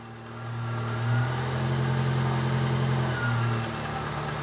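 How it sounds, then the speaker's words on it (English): Small engine of a 1992 Subaru Sambar kei truck idling steadily with a low hum, its pitch dipping and labouring briefly as the headlight brights load it, close and alone without talk. "when you do the brights, the engine struggles for a little bit."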